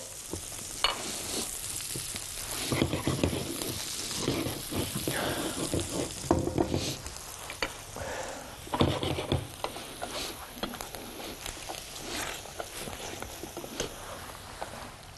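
Onions and garlic fry in a pan with a continuous crackling sizzle, broken by repeated scraping and clattering bursts of stirring, close and fairly loud with no talk.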